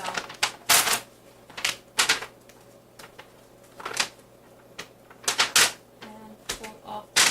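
Glued seed tape being ripped out and pulled off during lettuce and spinach planting, with irregular sharp tearing and crackling bursts close by and a voice talking faintly at times.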